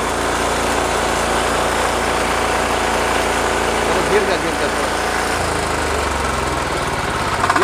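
A small power weeder mini tractor engine, a rotavator-style farm machine, runs steadily at idle after starting, a loud continuous drone close by with a voice talking over it.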